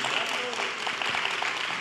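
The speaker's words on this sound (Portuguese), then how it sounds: "Uma salva de palmas para vocês." Applause from an audience at a live religious program fills the clip as a dense wash of clapping, with speech heard over it throughout.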